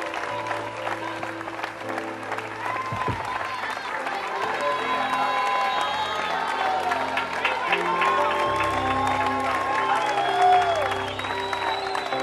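Church congregation applauding and cheering, with crowd noise and scattered shouts mixed with voices and sustained tonal sound, holding steady at moderate loudness throughout.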